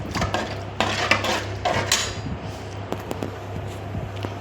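Metal lid set onto a pot of simmering dry fish curry, several light clanks and scrapes of cookware, close by over a low steady kitchen hum.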